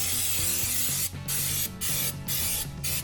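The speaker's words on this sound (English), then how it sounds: "I like spraying things with brake clean." Bursts of brake cleaner spray hiss in short blasts onto the rear brakes of a 2016 Ford Edge, four or five quick squirts separated by brief pauses, close and fairly loud.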